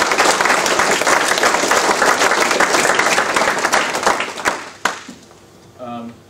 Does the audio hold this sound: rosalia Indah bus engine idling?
no